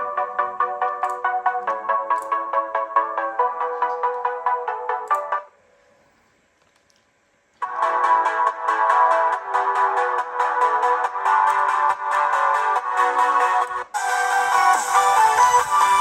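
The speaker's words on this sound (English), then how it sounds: "I will do the speaker test as well of this song from No Copyright Sounds" An electronic song plays through the built-in speakers of an Acer TravelMate 4230 laptop at maximum volume, thin and bass-less, with a brief near-silent gap before it resumes louder and brighter.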